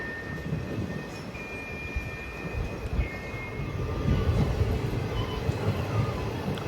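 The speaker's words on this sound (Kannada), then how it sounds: "ರೋಡ್ ರೈಲ್ವೆ ಸ್ಟೇಷನ್ನಿಂದ ಟ್ರೈನ್ ಹೊರಡ್ತಾ ಇದೆ." A passenger train pulls out of Honnavalli Road railway station, giving a low continuous rumble and rattle that grows slightly louder partway through, with faint higher tones above it.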